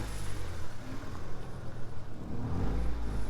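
Small car engine revving up and down in uneven surges, a close, fairly loud throaty drone that swells toward the end, with no talk.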